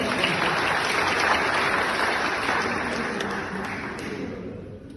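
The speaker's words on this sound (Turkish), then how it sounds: "Anons ettiğimi biliyorum ama bir daha alkışlayalım." Audience at a district party congress applauding, a dense wash of many hands clapping that holds steady and then gradually fades toward the end.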